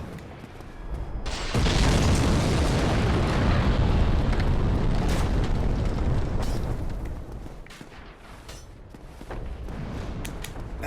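Big rumbling explosions from a giant hurling bombs in Dark Souls, a sustained roaring blast that swells around two seconds, holds, dips near eight seconds and then rises again.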